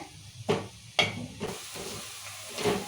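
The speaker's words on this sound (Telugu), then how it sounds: "ఇక ఉల్లిగడ్డలు మిరపకాయలు మంచిగా ఎర్రగా మగ్గినాయి" Onions and chillies fry in a pan for mutton curry, a soft close sizzle broken by a few sharp stirring clatters of a spoon against the pan.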